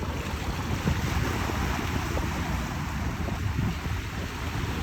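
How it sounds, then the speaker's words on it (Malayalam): Rough sea churns against the shore during fishing, a constant roaring wash of waves and wind that stays loud and steady with no pauses. "കടലിതാ നല്ല ഇളകി നിൽക്കുന്നു"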